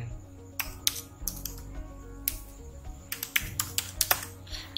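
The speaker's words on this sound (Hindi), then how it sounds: "कोई भी टेक्स्ट से टाइप कर सकते हैं" Typing on a computer keyboard, with soft, irregular keystroke clicks in quick clusters and short pauses, fairly quiet over low room hum.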